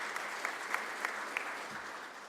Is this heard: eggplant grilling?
no